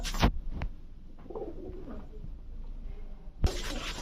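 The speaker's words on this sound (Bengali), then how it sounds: "এটা হচ্ছে রয়্যাল কোবরা একটা মাদি কবুতর" A female Royal Cobra pigeon gives soft, low, throbbing coos up close, bracketed by brief loud rustling bursts at the start and end.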